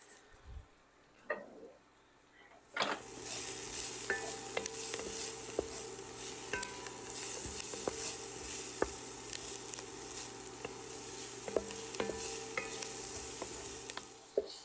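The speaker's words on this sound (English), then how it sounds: "So now I'm going to add in some onions. And we will let those cook down for just a few minutes." Onions dropped into hot Italian sausage grease in a pan for zuppa toscana, starting a sudden loud sizzle after a quiet moment, then a steady crackling hiss with scattered ticks and pops, no talking.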